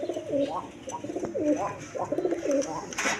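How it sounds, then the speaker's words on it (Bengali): A pair of male orange chila pigeons coo in repeated rolling, throaty phrases, close and steady, with a little background rustle at a wholesale pigeon seller's. "এখানে এক পেয়ার চিলা, অরেঞ্জ চিলা কবুতর আছে দেখেন, কিছু ডাকা ডাকে"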